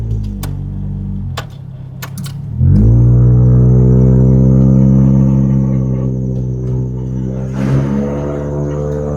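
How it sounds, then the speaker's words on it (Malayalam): A Toyota Celica's engine catches after a few clicks and low rumbling, then settles into a loud, steady exhaust drone while driving, heard close from inside the car, with a slight rise near the end. "എക്സോസ്റ്റ് നോട്ടാണ് നമ്മൾ കൂടുതൽ കേൾക്കുന്നത്."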